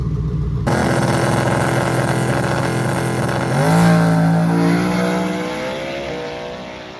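Drag racing cars on a track: a loud, sustained engine roar that rises in pitch as one car accelerates midway, then eases off toward the end, with no talk.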